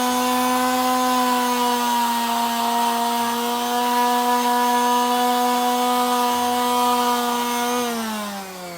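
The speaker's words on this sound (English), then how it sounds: "I use a little 4-inch orbital sander. They work great." A small 4-inch orbital sander with 120-grit sandpaper works over a jetski hull, putting out a steady, loud motor whine that holds its pitch and then drops as the tool winds down at the end.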